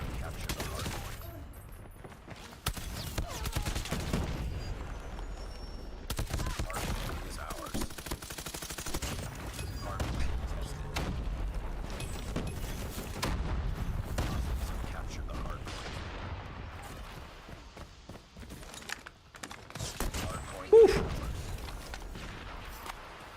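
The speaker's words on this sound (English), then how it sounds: "Big gunfights right here." Gunfire during a Call of Duty Mobile playoff match: repeated bursts of automatic fire and shots, with a loud blast near the end, running beneath an excited commentator's talk.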